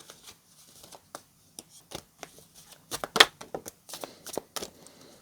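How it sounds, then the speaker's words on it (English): Tarot cards being shuffled and drawn during a reading, a close run of sharp card flicks and slaps in an uneven rhythm that gets busier and louder midway, with no talking over them. "Let's draw one more card."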